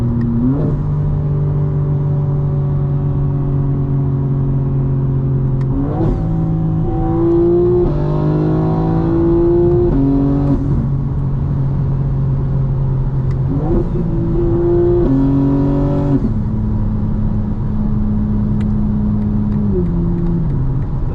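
Hard daytime driving in a 2025 BMW M4 Competition: a loud, near engine drone rises and falls with repeated bursts of acceleration and crisp gear shifts over a long stretch.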